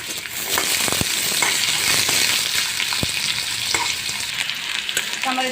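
Potato pieces fry in hot oil already used for frying morola fish, giving a dense, steady sizzle close by, broken by occasional sharp clicks of a utensil stirring in the pan.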